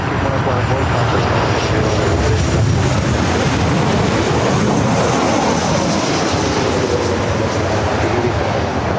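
Airliner on short final to runway 24 right at Los Angeles LAX, a loud sustained broadband jet engine roar filling the whole stretch, with a voice talking over it.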